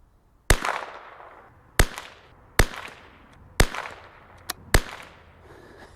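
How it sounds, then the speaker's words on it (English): Six sharp outdoor rifle shots from a CZ 457 .22LR firing Eley Match ammunition, irregularly spaced, each a loud crack with a short echoing tail, and no talking. "let's try and shoot it right there in front of that log."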